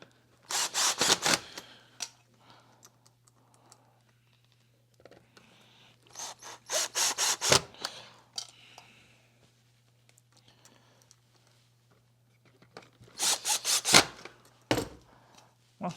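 Screws being backed out of a Hoover Powerdash FH41000 carpet cleaner, heard as three separate bursts of close scraping, rasping driver turns with quiet pauses and a low steady hum beneath.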